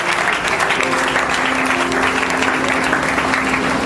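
A church congregation applauding at a wedding service, dense, loud, sustained clapping from a large crowd, steady throughout with a faint voice underneath.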